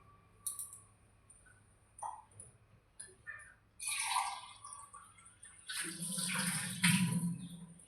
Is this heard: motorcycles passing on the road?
no